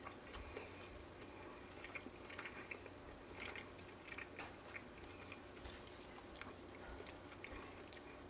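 Someone chews a bite of a mushroom burger cooked in cast iron, with soft, quiet, irregular crunching and mouth sounds close to the mic and no talk.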